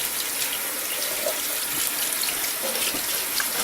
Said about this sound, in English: I always like to do it under running water and just take a scouring pad and just kind of scrub it